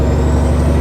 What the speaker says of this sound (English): this Caterpillar Jake brake does such a nice job holding it back